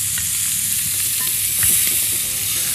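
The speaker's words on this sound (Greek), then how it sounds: "Ανακατεύω." Pork bites with mustard and chickpeas stirred in a frying pan, a steady sizzle of frying under scraping spoon strokes, close and continuous with a brief louder swell midway.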